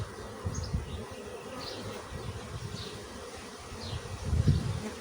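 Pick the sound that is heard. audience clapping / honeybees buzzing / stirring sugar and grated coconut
honeybees buzzing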